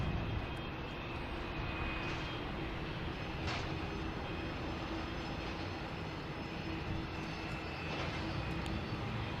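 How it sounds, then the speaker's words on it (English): Spirit Airlines Airbus A321neo jet arriving at Boston Logan, a continuous broad engine roar heard from a distance, steady throughout with no talk. "next to arrive, we have a Spirit Airlines coming in from Charlotte,"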